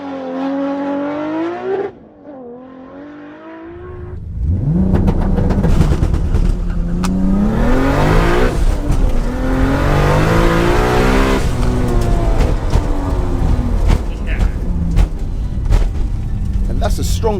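An 800bhp GTR van and a 900bhp Supra launch side by side in a drag race, engines revving hard and roaring loudly as they accelerate away, with a voice talking over the noise.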